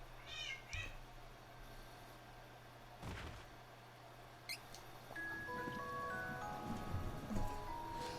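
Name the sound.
cat meowing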